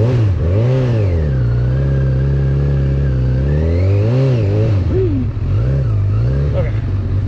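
Honda CB1000R motorcycle engine pulling away in first gear on a steep road: a loud, close, steady engine drone whose revs rise and fall in swells throughout.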